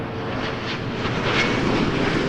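A plane taking off at night at Toronto Pearson Airport, heard as a steady, broadband jet roar from a moderate distance, with no voices.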